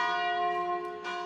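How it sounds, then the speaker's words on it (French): Church bells ringing early in the morning at the Latin Patriarchate co-cathedral in Jerusalem, a sustained, resonant bell tone with a second strike near the end, loud and alone. "Tôt le matin, les cloches sonnent"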